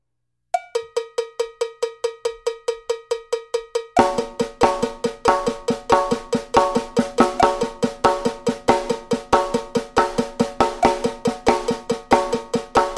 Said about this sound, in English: So the accents, again slow on the snare drum only, sound like this.